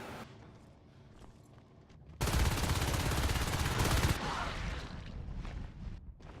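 Rapid bursts of automatic gunfire from a competitive NSL semifinal match between Singularity and Gnarcolepsy, sudden and loud in the middle, dense and continuous before tailing off, with quieter game noise around it.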